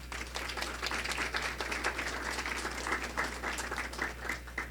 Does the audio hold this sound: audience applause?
yes